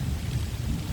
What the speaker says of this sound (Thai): เร็วฝนตก